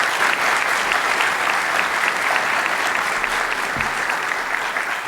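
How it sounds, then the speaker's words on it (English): Sustained applause from an evening debate audience for the debaters, even and dense from start to finish, with no voices standing out. "And one final round of applause for our debaters for the job they did tonight."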